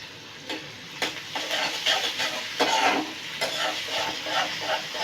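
Chopped garlic and onion fry in a pan with a busy sizzle while a utensil stirs and scrapes in repeated strokes, close and fairly loud.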